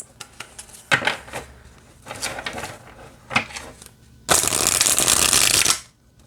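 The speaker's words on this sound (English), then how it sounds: "let's see how it shuffles" A deck of The Way Seekers Tarot cards being shuffled by hand, several short riffling bursts followed by a long, loud continuous riffle, close up with little else around it.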